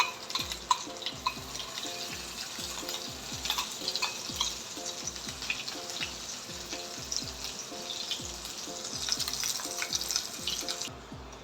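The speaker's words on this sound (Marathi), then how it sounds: "ही जी आपण पेस्ट केली होती ती आपल्याला तेलामध्ये टाकायची आहे आणि व्यवस्थित फ्राय करून घ्यायची आहे" Onion and coconut paste frying in oil with a pinch of asafoetida in a pan, a continuous soft sizzle broken by a steady run of stirring scrapes, close and without talk.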